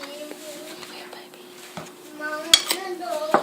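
A spoon works sage, oregano, garlic and olive oil into a thick paste in a bowl, giving soft scraping with a few sharp clinks against the dish, under a quiet voice.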